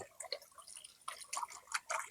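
Water splashes and drips into a concrete well in quick, irregular echoing bursts, faint and close, with no voices.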